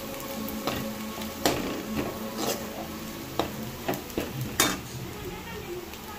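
A spoon stirs frying potatoes mixed with lentil powder in a pan, making repeated scraping and clinking strokes over a soft sizzle, with faint speech in the background.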